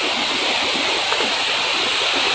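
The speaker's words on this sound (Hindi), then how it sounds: "तो ये है पूरा नज़ारा कांगेर धारा का। और ये एक वाटरफॉल जो बना हुआ है," Kanger Dhara waterfall in Kanger Valley National Park roars as a constant, loud broadband rush of falling water, steady and unbroken with no voices.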